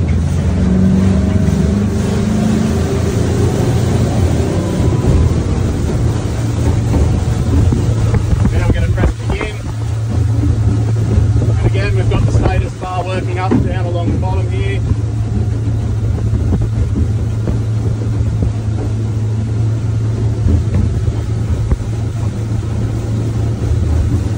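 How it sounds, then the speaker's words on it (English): A motorboat powers up onto the plane, its engine and hull drone holding loud and steady close by under heavy wind noise, while someone talks briefly partway through. "get the boat back up on the plane."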